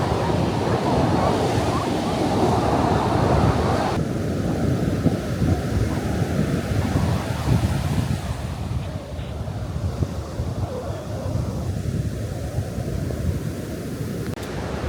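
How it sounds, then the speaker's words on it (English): Pacific Ocean waves roll onto the shore, a steady loud wash of surf mixed with wind buffeting the microphone throughout, with no distinct voices. "we end today here at the Pacific Ocean"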